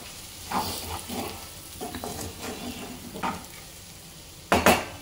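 Crushed garlic stirred into a frying potato and fenugreek-leaf curry, soft sizzle with several scraping stirs of a spoon in the pan and a sharper metallic clank near the end, close and fairly quiet.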